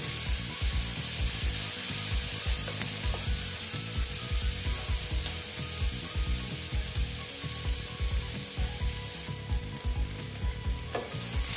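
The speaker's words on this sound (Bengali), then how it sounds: "পেঁয়াজটা মোটামুটি ভাজা হয়ে গেছে। পেঁয়াজ আর আদার যে ভাজা, খুব সুন্দর সেন্ট বেরিয়েছে।" Onion and ginger fry in a pan with a close, continuous sizzle, broken by rhythmic scraping strokes as the mixture is stirred.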